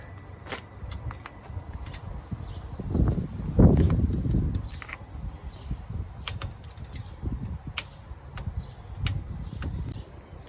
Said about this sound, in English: You gotta torque this bolt up to spec.